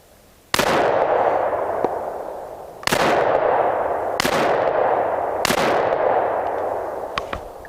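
Polymer80 AR15 rifle fired into snow outdoors, four sharp loud reports spaced a second or more apart, each with a long ringing decay, close and with no talk.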